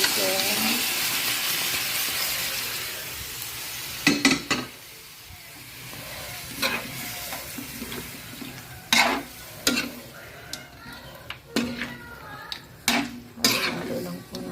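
Chicken adobo stirred in a sizzling pan: steady frying hiss with a series of scraping, clinking utensil strokes against the pan at irregular intervals, close and moderately loud, with someone speaking briefly between strokes.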